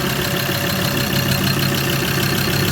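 A Ford Ranger 3.2L engine idles on its first start after a head gasket repair. The idle is loud, close and steady, with a dense, slightly noisy clatter.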